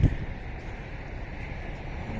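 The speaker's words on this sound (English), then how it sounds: "It's very windy though and cold." Steady strong, cold wind buffeting the microphone in Kent, UK, a low rumbling roar with a gust at the start, continuous and loud with no voices.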